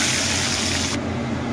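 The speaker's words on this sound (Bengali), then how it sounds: "আরও কিছুটা পরিমাণে চিকেন আছে, ওগুলো ভাজতে দিয়ে দেবো।" Chicken pieces frying in hot oil for biryani, a steady loud hiss and rush of bubbling that fills the whole stretch, the bright top edge cutting off partway while a dense sizzle continues.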